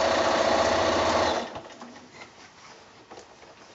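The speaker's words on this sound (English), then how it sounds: "I've worked pretty constantly with this walking foot today" A sewing machine fitted with a walking foot stitches a long bag strap in a fast, close, rhythmic run, then stops abruptly partway through, leaving quiet room sound and faint clicks.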